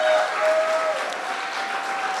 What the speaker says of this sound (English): Let's have a nice round of applause for her.